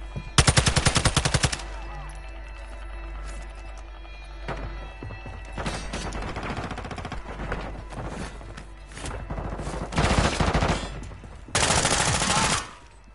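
Call of Duty: Modern Warfare 2 gunfire erupts in loud, rapid automatic bursts: a long opening volley, scattered shots through the middle, then two more heavy bursts near the end.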